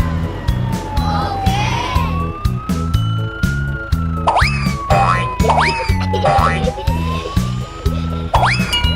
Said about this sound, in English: Blue ambulance.